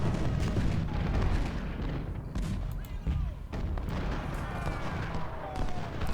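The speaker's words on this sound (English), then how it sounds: "now our gunboats are firing" Artillery fire from gunboats in the Ultimate General: Civil War video game: dense, continuous booming cannon fire and rumble filling the scene, with overlapping blasts and faint whistling shells, and someone talking over it.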